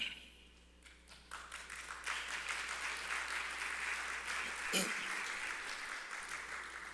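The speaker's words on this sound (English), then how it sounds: "Thank you for that round of applause" Audience applause for a panel at an agribusiness investment forum in Jamaica, a sustained wash of clapping that builds after a quiet start and holds steady for several seconds, with a brief louder burst near the end.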